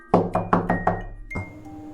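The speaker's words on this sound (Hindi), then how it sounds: "मकान मालिक के घर पहुंचकर जैसे उसने दरवाज़ा खटखटाया" Door knocking sound effect: five quick, evenly spaced knocks on a wooden door, close and clear, followed by one final duller thud and a faint lingering tone.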